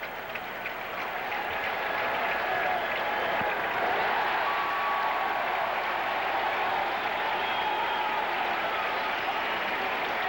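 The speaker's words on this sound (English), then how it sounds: "the crowd cheering now with 2 strikes on Mario Soto" A baseball stadium crowd at a Reds at Mets game cheers with two strikes on the batter, a broad sustained roar of applause and voices that swells and holds throughout, heard from a distance with no commentary over it.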